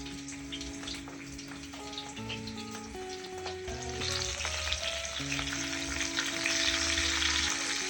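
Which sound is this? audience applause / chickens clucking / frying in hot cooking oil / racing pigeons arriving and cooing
frying in hot cooking oil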